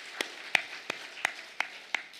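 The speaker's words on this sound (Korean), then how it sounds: "하나님께 박수를" A church congregation claps at a Sunday worship service, six sharp, evenly spaced claps over a soft room murmur.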